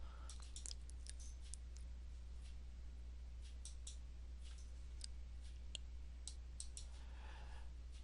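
Computer mouse clicks while formatting spreadsheet cells, a scattered series of short, crisp, faint clicks over a steady low hum, with no talking.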